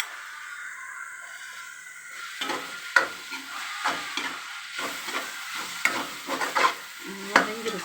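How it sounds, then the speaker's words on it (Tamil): Home-style fried rice is sautéed with spice powders in a pan, a sizzle under repeated stirring and scraping strokes that come in uneven bursts, close and fairly loud. "இதோட போட்டு வதக்கிறேன்."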